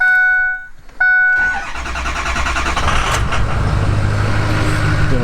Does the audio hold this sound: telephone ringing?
no